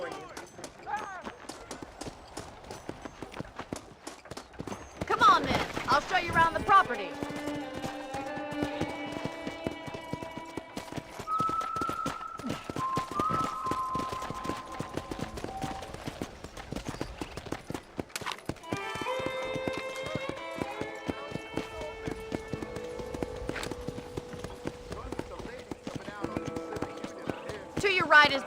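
Horse hooves clip-clop steadily on a dirt path in the Western video game Red Dead Redemption, running underneath nearly continuous talking and background music.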